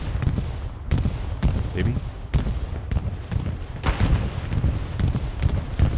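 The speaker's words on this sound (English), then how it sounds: "Oh, we have a dual bombing run, I believe." A bombing run in the WWII video game Hell Let Loose brings a steady barrage of explosions and gunfire cracks under heavy rumble. Faint voices talk briefly over the din.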